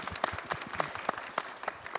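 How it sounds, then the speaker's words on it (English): Audience applause at a women's symposium held in a church, a smaller group clapping with distinct individual hand claps mixed into a steady patter, fairly soft and somewhat distant, no talk. "Give them a round of applause."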